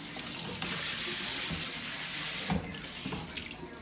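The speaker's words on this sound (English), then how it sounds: "give it a little rinse" Water runs steadily from a kitchen tap as a small item is rinsed beneath it. The splashing hiss is close and continuous, with a brief louder gush midway.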